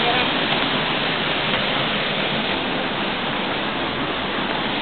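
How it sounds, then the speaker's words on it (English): Steady, dense rushing of a small waterfall in a forest, an even continuous wash of water noise with no breaks. "Waterfall, maybe? Oh, yep, little waterfall."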